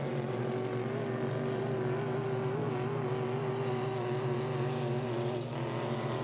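A 5-litre hydroplane racing boat, El Diablo, roars past on its engine during a heat at Beauharnois: a loud, steady, droning motor with a constant pitch and little variation across the stretch.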